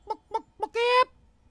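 A voice imitates a chicken: three short clucks in quick succession, then one longer drawn-out squawk, close and clear.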